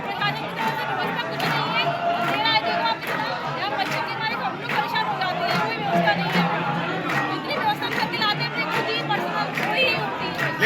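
A dense crowd of devotees gathered at a Hindu temple for the evening aarti fills the space with steady chatter and babble, with voices overlapping throughout and nearby speech rising above the hubbub.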